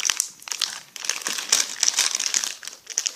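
Thin plastic blind bag holding small toy figures being handled and cut open up close, a steady run of crinkling and crackling rustles with brief louder scrunches.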